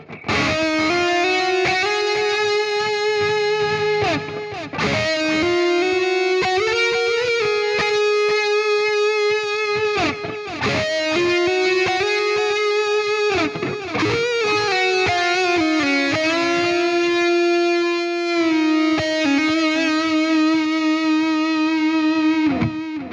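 Electric guitar phrases with clear repeating echoes trailing each note, set in a roomy reverb, played steadily and loud throughout.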